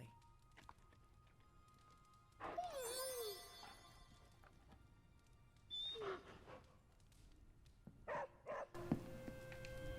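Charlie, a small puppy in Marvel's Midnight Suns, gives a few short barks and yips in separate bursts spread over several seconds, fairly close, alongside soft footsteps and quiet background game ambience.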